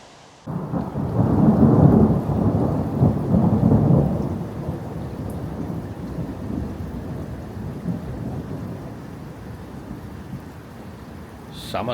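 An approaching storm rolls in with a loud, deep rumble of thunder over steady rain. The thunder fades into a continuing rain hiss that lasts several seconds.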